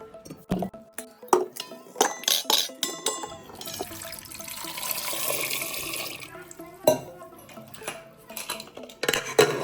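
Potatoes dropped into a pressure cooker in a home kitchen, a series of sharp knocks and clatters of metal and potatoes with water running in bursts between them, close by, with no one talking.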